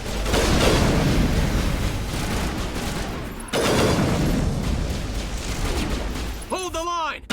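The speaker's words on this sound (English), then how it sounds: "Open fire. Open fire!" Dense, sustained bursts of automatic gunfire in a video game firefight between mercenaries and an Alliance Marine, loud and continuous, with a short electronic chirping effect near the end.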